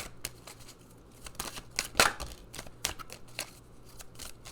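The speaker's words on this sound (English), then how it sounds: "Let's pull a couple more cards." Oracle cards shuffled and pulled from the deck, a continuous papery riffling with sharp snaps and flicks scattered throughout, close and fairly quiet.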